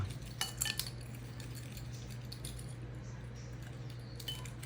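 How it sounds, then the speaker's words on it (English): A tablespoon whisks seasonings together in a bowl, giving a few faint metallic clinks and scrapes early on and again near the end over a steady low hum. "Use that tablespoon just to whisk our seasonings together"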